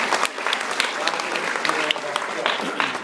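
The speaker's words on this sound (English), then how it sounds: "Let's give Gina and Taylor a round of applause" A classroom group gives a short round of applause for two students, scattered individual claps at close range forming an uneven patter that continues for a few seconds.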